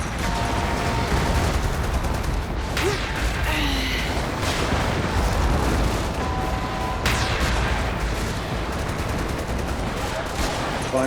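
Explosions and gunfire in the video game Freedom Wars Remastered, with sharp blasts and bursts over a constant loud battle rumble and some mechanical clatter.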